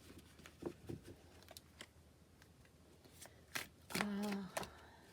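Tarot cards being shuffled and handled in a quiet room, with scattered soft riffles and snaps building to a louder rapid shuffle near the end.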